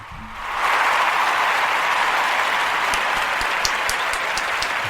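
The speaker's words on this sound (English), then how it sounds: "Definitely a round of applause for that." Studio audience on a talk show giving a round of applause, a dense, loud, sustained roar of many clapping hands that swells in after a brief pause and holds steady, with a few sharper claps standing out near the end.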